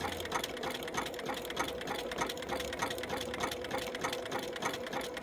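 A sewing machine runs continuously while applique stitching, a close, even rapid chatter of needle strokes with a steady pulsing rhythm and no pauses.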